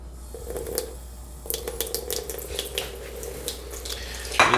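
Water dribbles from a tap into a pot of uncooked rice in a kitchen, a soft irregular splashing over a steady low hum, ending in a brighter clatter.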